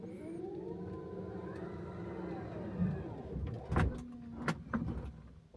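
Doors of a Tesla Model X six-seater closing after the close-all command, a long electric motor whine rising and falling, then several close thuds and latching clunks near the end.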